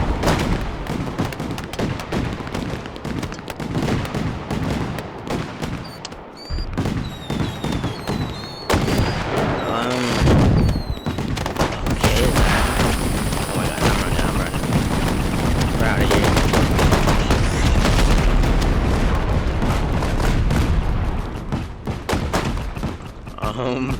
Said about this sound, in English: I hope the police didn't hear me blow up their fireworks store.